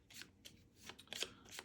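A deck of cards is shuffled during a co-op board game, several quick riffling bursts in a row, faint and close, with no talk over them.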